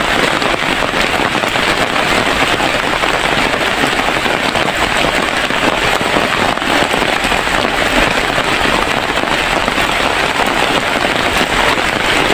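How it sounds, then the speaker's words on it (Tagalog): Heavy rain pours down in a steady, dense roar with no letup, close and loud throughout. "Lakas ng ulan."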